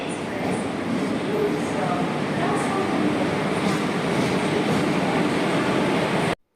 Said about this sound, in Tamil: இப்போது ஸ்டேஷன் உள்ள என்டர் ஆகிற இந்த ட்ரெயினில் தான் நம்ம பொள்ளாச்சி வரைக்கும் போகணும்.